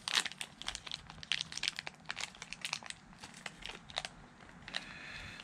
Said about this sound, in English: let's go ahead and rip this open.